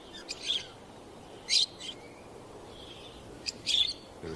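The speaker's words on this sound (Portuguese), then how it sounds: "Periquitos se abrigam na sombra das rochas." Parakeets sheltering in the shade of rocks in the Namibian desert give short, sharp chirping calls in three separate bursts, moderately distant, with quiet stretches between them.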